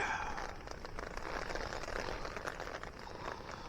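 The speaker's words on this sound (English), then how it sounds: "I don't know if you can hear it, but it's raining a fair old bit." Rain falls on a tent, a fairly heavy, close, crackling patter of drops on the fabric that stays steady throughout without any voices.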